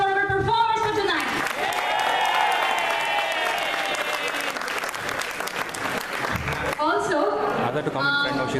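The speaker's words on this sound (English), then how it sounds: "can I hear a round of applause for our performers for tonight?" Audience round of applause for performers at a college cultural evening, a steady dense wash of clapping that swells and holds for several seconds, with music and cheering voices underneath and at the start and end.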